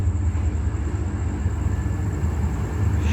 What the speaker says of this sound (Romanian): Iată-l că intră în gară.